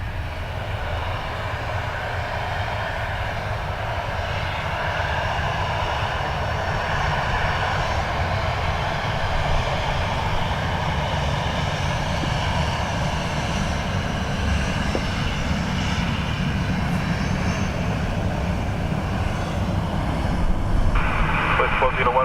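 An airliner taking off from runway 10 right at Dublin Airport, a broad continuous engine roar that holds steady and swells slightly, heard from a distance with faint voices underneath.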